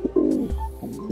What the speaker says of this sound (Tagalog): So ngayon may inaalagaan ako mga kalapate dito.